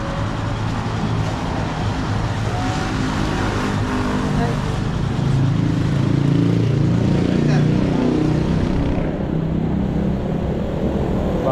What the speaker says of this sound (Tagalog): Bagong motor.